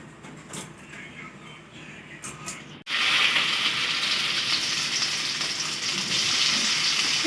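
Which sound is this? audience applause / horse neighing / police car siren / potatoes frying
potatoes frying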